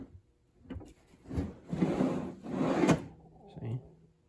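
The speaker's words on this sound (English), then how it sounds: "Not only drawers, soft close drawers." Soft-close drawers on a wooden workbench slide shut a few times, making low rumbling glides that ease to a quiet stop, close and moderately loud with no speech over them.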